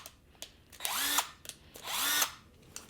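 A Bauer brushed cordless power drill whirs in two short bursts, each spinning up with a rising whine and then stopping, with light clicks and handling noises between them, close and fairly loud.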